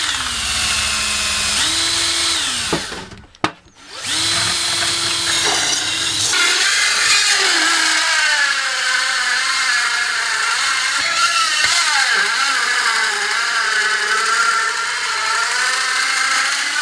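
A power drill with a 2 1/8 inch bit cuts a hole in a metal mini pony keg, giving a steady loud grinding whine that pauses briefly near the start and then runs on continuously.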